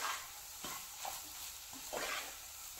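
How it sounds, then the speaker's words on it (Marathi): Egg bhurji with a generous handful of chopped coriander is stirred in a pan. Several quiet scraping strokes come in an uneven rhythm over a faint sizzle, with no voices. "वरून खूप सारी कोथिंबीर घाला आणि व्यवस्थित एकदा मिक्स करून घ्या"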